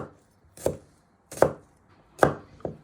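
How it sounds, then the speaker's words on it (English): A knife chops peeled garlic finely on a board in four crisp, close strikes spaced under a second apart, with no voices. "you want to finally chop it into little pieces."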